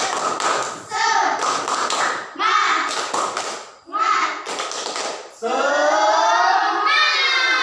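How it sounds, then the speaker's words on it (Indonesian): A classroom of children doing a rhythmic spirit clap together in unison, bursts of claps and taps in a patterned beat alternating with the children's chanted voices, ending in a sustained group shout. "Yuk kita tepuk semangat dulu bersama-sama."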